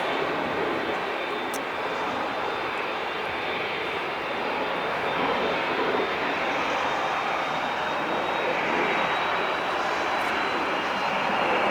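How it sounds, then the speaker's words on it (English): A Boeing 767's jet engines run steadily as it prepares to taxi at LAX, a loud, continuous broadband roar with a faint high whine, heard nearby without talk. "So the 767 is finalizing his, getting ready for his taxi here. Heard his engine starting."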